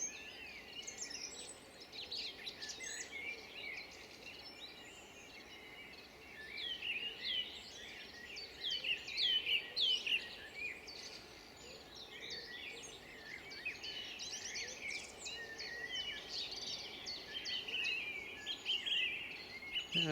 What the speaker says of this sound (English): this wonderful bird song.